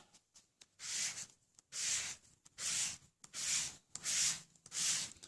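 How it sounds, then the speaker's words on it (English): Rhythmic sanding strokes scrape across glossy white cardstock with a sanding block, six or seven even passes in one direction with short pauses between them, close and fairly quiet. "the trick is you're only sanding in the one direction"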